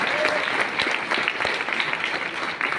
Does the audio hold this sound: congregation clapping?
yes